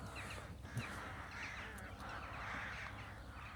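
Several crows caw repeatedly at a distance over a steady outdoor background, their harsh calls overlapping in loose bursts.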